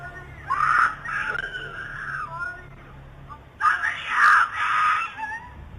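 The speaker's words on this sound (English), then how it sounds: "As the woman cries for help at the top of her lungs" A woman screams for help at the top of her lungs, caught on a doorbell camera, in two long, loud, strained shrieking bursts separated by a quieter stretch.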